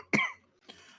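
One sharp, loud cough from a man in a tabletop gaming session, followed a moment later by a softer second cough or throat-clear, with quiet in between.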